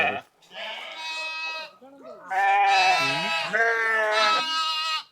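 Freshly shorn sheep bleating close by, several long wavering cries in succession with short pauses between them, loud and clear.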